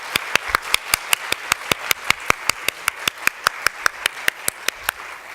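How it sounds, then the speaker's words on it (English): Audience at a San Francisco Asian Art Museum talk claps in a fast, steady, evenly spaced rhythm, each sharp clap standing out distinctly over a low background for several seconds. "let's give a big applause to people in San Francisco"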